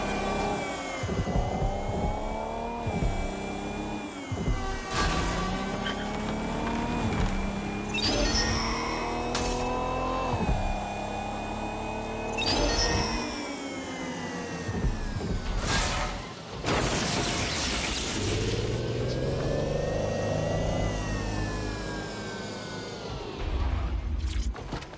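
A car in Watch Dogs Legion cruises on auto drive with a continuous loud engine hum that rises and falls as it shifts and accelerates, with whooshing traffic passes and a few sharper swells along the way.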